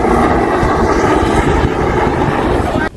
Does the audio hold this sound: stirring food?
no